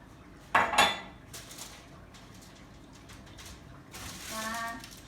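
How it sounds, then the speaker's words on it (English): Winter squash seeds tossed in oil being spread onto a metal cookie sheet, with two sharp clattering scrapes near the start and a softer rattling, sliding scrape toward the end, close and otherwise quiet. "I'm just gonna spread them onto my cookie sheet"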